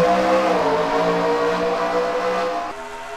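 Stock cars in a racing video game at the Toyota/Savemart 350 race produce a steady, high-pitched layered engine whine that holds level, then drops off slightly near the end.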